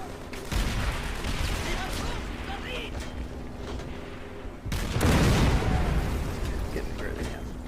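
Trench gun shotgun blasts in a wartime shooter video game, booming loud bursts amid ongoing gunfire and battle noise, with a heavy blast midway; someone talks over the action.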